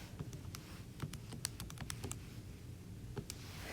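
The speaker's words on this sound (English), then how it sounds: "in the calculator, we have all of that. It'll take 2 seconds to type it in." Numbers are keyed into a calculator, a quick irregular run of light, close plastic clicks and taps with brief pauses in a quiet room.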